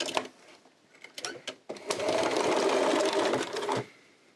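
Sewing machine back-stitching a coin purse, with short stop-start bursts of stitching giving way to a steady run of several seconds, close and clear.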